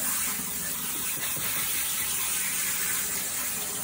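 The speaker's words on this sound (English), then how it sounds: "I like to use the spray setting on my sink. I'm going to use warm water" Warm water sprays steadily from a kitchen sink's spray setting onto a mop head being rinsed, a constant close hiss with no pauses.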